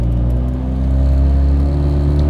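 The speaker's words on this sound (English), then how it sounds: "get our engine running, and we'll come up to 3000 RPM here" Mazda FD RX7 with a 13B rotary engine holding steady revs around 3000 RPM, a constant loud buzzing drone with a deep rumble and no talking.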